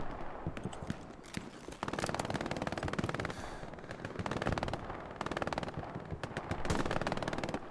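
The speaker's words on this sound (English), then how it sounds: "There are shots from hill." Dense gunfire in the WWII shooter Hell Let Loose: rapid machine-gun bursts and rattling rifle shots from a fairly close position, coming in long rolling waves with short pauses between them.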